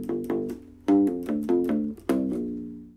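Picked notes on a U-Bass with flatwound strings, a run of about eight deep, round plucks in a steady groove, each thumping and then decaying, played alone and up close.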